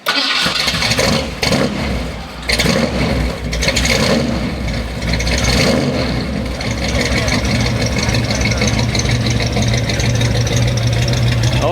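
A 1975 Ford van's engine cranks and catches, then settles into a steady, rumbling idle that carries on for several seconds with no one speaking.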